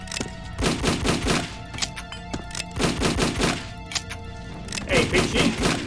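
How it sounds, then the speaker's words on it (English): Grenade launcher firing in the shooter Doombringer: repeated loud, thumping bursts in three clusters, each a rapid string of punchy shots with ringing, crackling tails, close and dominant. "Ooh, we got ourselves a grenade launcher."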